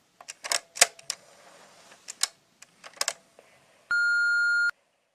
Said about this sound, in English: This voicemail sucks, Jinx.